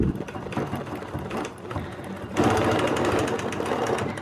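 A Bernina Q16 longarm sewing machine stitches while quilting with rulers, its needle hammering in a fast, steady rattle that pauses briefly and then picks up again slightly louder.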